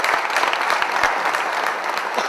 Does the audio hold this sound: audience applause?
yes